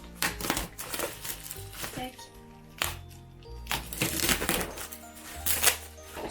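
Crinkling plastic and rustling packaging as a parcel is torn open, with irregular crackles and thumps and a voice speaking intermittently.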